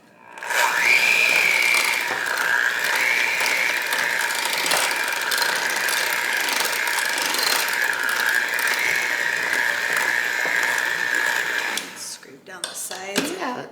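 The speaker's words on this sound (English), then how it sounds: "we're using our hand mixer here because when we use our stand mixer for cheesecake," An electric hand mixer beating pumpkin cheesecake batter in a bowl, a steady loud whirring motor drone with a high whine held for about twelve seconds before stopping, followed by a few scraping knocks.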